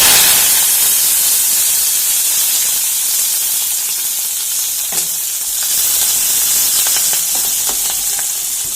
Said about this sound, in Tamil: இப்போ வெங்காயம், பச்சை மிளகாய், கருவேப்பிலை இது எல்லாத்தையும் சேர்த்து போட்டுக்கலாம்